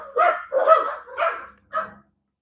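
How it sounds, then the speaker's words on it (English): A dog barks four times nearby, loud and evenly spaced, with no other sound. "At this point, I think he's barking just to hear himself bark."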